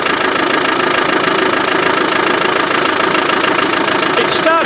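A Land Rover Defender's diesel engine idles close by with a steady, dense mechanical rattle and knock, running continuously at a constant loud level with no talk over it.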